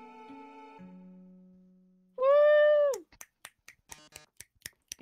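A single cat meow, loud and close, cutting through soft music tones, followed by a string of sharp finger snaps or clicks.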